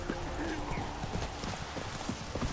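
Horse hooves clip-clopping on the ground as the horse Roach moves in The Witcher 3, a quick irregular patter of steps close by, with a brief whinny-like tone and game ambience underneath.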